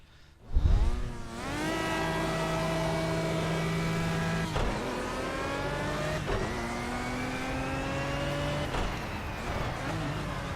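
An Aston Martin engine in the Project CARS racing game holds steady on its rev limiter, a loud sustained high-rpm drone with brief dips at gear changes, no talk over it.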